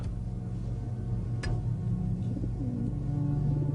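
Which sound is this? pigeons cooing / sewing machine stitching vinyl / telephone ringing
pigeons cooing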